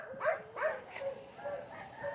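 Several stray dogs held at a pound bark and yip in a quick irregular series, moderately distant, with fainter barking continuing between the louder calls.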